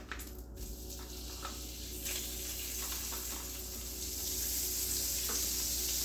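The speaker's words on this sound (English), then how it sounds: "You're gonna put your butter in here." Butter melting and sizzling in a pan after salmon was seared crisp, a soft continuous frying hiss that gradually swells, with a few light utensil knocks near the start and no speech.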